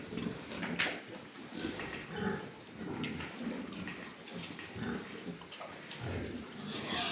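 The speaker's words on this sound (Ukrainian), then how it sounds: "Ну і ось такі поросятка ось бігають тут біля мамки." Yorkshire-Landrace cross piglets grunt and squeal around their sow in a busy, continuous jumble close by, with some rustling throughout and no talking.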